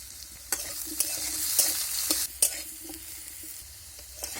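Potatoes frying in a pan that is covered and uncovered in turns, a soft sizzle broken by several sharp clatters and scraping stirs, close and unaccompanied by speech.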